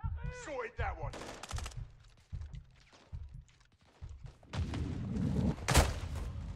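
Rapid bursts of gunfire ring out in Call of Duty: Modern Warfare II, sharp repeated shots in clusters with thuds between them, loud and close, while someone talks over the shooting.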